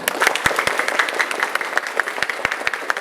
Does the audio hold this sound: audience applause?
yes